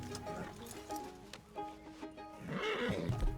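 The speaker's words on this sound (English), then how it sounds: "Oh, that's the horse." A horse in Red Dead Redemption 2 lets out a clear whinny after a few soft hoof clops, close and moderately loud, with someone talking faintly in the background.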